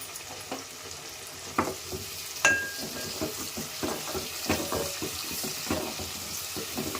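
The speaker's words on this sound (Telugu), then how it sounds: "లైట్గా వేగనిద్దాం పచ్చిమిర్చి ఉల్లిపాయలు" Green chillies and onions frying in an Andhra-style prawn gongura curry, a close steady sizzle with a spatula scraping and tapping the pan in an uneven rhythm.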